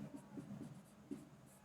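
Chalk or marker writing on a board during a lecture on synchronous machines: a series of short, faint scratchy strokes in quick irregular rhythm, heard alone and quiet.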